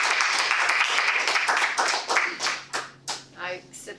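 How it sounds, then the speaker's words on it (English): A small group applauds at a Toastmasters meeting, the dense clapping thinning toward the end into a few separate, slower claps, with a voice speaking faintly underneath. "A round of applause."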